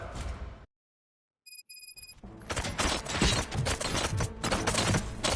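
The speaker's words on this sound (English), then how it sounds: "Gunshots? What's going on?" Gunfire in a RoboCop film scene: after a brief dead silence, a loud, dense burst of rapid shots and crashing impacts fills the rest of the moment, close and chaotic.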